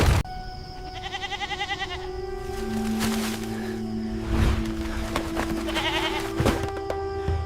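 Goats bleating in a nervous, quavering series, several calls close by and fairly loud against a noisy, busy background, with no talk over them.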